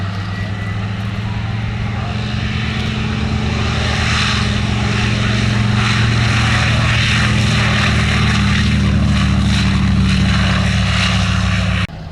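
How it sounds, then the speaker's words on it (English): A Yak-3 propeller fighter rolls overhead at a Shuttleworth flying display, its piston engine a loud continuous drone that swells and shifts in pitch as it manoeuvres, with faint commentary beneath. "The Yak 3 rolling."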